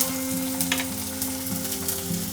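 Ginger garlic paste sizzles and fries steadily in a pan for chitranna rice, a continuous close crackle with a brief stir near the start and no talking.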